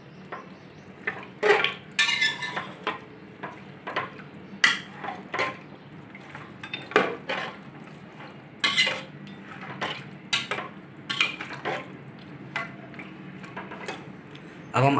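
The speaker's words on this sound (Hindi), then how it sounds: "सारी चीज़ों को अच्छी तरह मिक्स कर देंगे।" A spoon stirs and mixes mutton trotters, water, turmeric, salt and whole spices in a metal cooking pot for paya, with irregular clinks, scrapes and clanks against the pot and a soft liquid slosh underneath.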